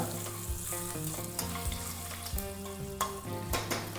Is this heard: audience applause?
no